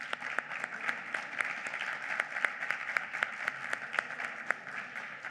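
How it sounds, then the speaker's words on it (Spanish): Audience at a panel discussion on mobility and inclusion claps steadily for the moderator, a dense even patter of many hands with sharper individual claps standing out, without talk. "Un aplauso para ella."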